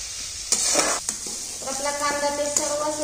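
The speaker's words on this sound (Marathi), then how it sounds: "थोडीशी कोथिंबीर टाकायची आणि थोडस असं हलवून घ्यायचं." Chopped tomato and coriander stirred in hot oil in a pan while making poha, with a steady sizzle, scraping stirring strokes and a few sharp utensil knocks.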